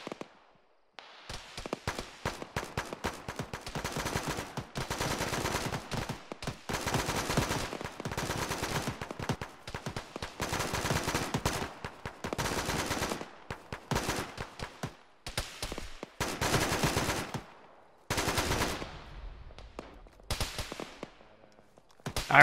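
Sustained gunfire in the Arma video game, rapid bursts and machine-gun volleys from a tower bunker to the north, loud and dense with brief pauses, continuing for most of the stretch.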